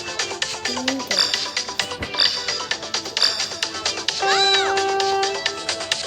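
A cat meows repeatedly, with several distinct drawn-out cries standing out over scattered background clatter and noise.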